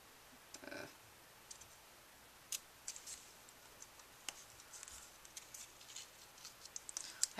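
Scissors cutting paper for a handmade paper flowers card: quiet, sporadic snips and clicks close by in a still room, with no talking.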